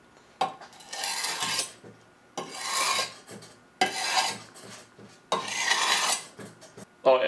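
Knife blades scraped hard to dull them, four long rasping strokes, each about a second and a half, with short pauses between, loud and close.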